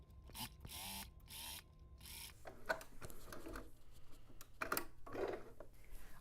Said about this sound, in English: we've edge stitched our pocket down